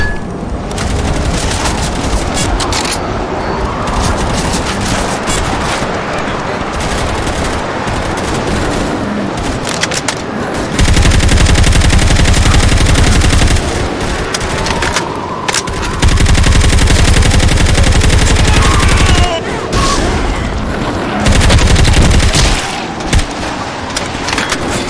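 Rapid bursts of gunfire from a gun in the video game Left 4 Dead, loud and close, with dense volleys running almost continuously and a few brief gaps between them.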